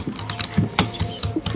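Someone types on a Dell KB216 wired multimedia keyboard, producing close, quick, uneven clusters of soft key clicks and thumps with no talking.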